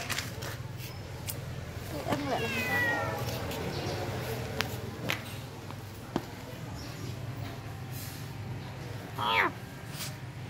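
A cat meows several times in a small indoor space, with rising and falling calls around two seconds in and again near the end, while a person talks intermittently over a low background hum.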